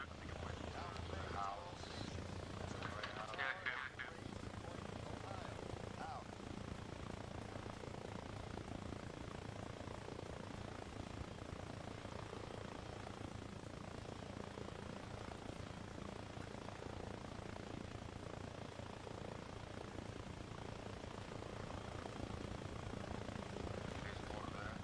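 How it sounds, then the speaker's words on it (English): A friendly helicopter in the video game ARMA Reforger gives a continuous low rotor and engine drone, steady and faint, with voices talking over it. "That is a friendly helicopter."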